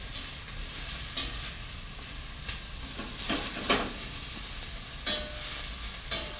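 Vegetables sweat in oil in a pan on the stove for Parmesan risotto, giving a steady soft sizzle broken by scraping strokes as they are stirred.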